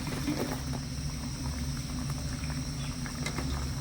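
Fried sweets made from flour and sugar are stirred into melted sugar syrup. The syrup bubbles and crackles softly and steadily, with faint patters and small clicks close by.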